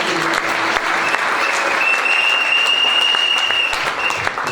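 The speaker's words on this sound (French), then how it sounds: "acclamons le Seigneur" Congregation at a church service applauding and acclaiming the Lord, steady loud clapping filling the whole stretch with a few cheers and a sustained high sung or shouted note rising over it.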